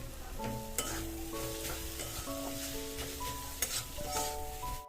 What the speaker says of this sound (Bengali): নুন দিয়ে এবার আমরা আবার ভালোভাবে নাড়াচাড়া করব